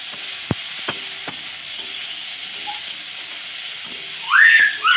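Tomato fries in a pan with a steady, fairly loud hiss and sizzle, broken by a few faint taps of a utensil early on and a brief whistling surge near the end.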